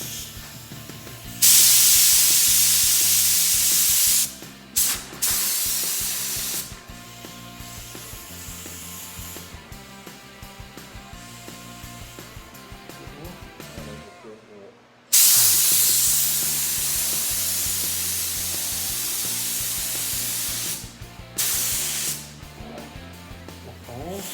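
A paint spray gun hisses in long, high-pressure bursts with the fan fully open, short pauses between passes and a faint mechanical whir underneath.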